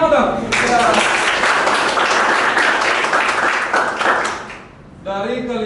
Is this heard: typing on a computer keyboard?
no